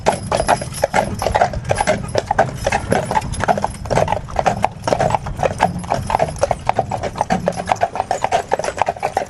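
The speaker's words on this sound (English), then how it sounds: "they first heard this bridge. You can hear that echo underneath." Percheron draft horses clop steadily across a bridge, their hoof strikes ringing with an echo from underneath in a brisk, rhythmic pattern, loud and close with a few faint voices in the background.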